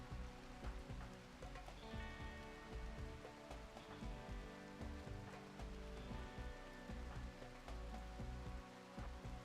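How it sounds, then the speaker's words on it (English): Steady rain in the colony game Rimworld falls as a continuous hiss across the whole stretch, with a music-like tonal layer and scattered soft taps riding over it. "Maybe we shouldn't have done this in the rain."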